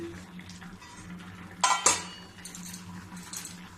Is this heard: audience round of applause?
no